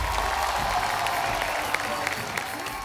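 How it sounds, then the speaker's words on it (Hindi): Loud applause from a studio audience on a Hindi comedy talk show, dense continuous clapping and crowd noise with a few sharper claps standing out. "जोरदार तालियां।"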